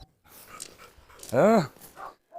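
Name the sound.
dog barking and whimpering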